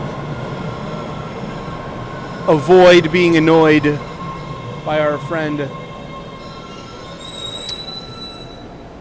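Subway train ride from inside the final car, with a constant rumble of wheels on rails and a high squeal near the end, while people talk briefly over the noise.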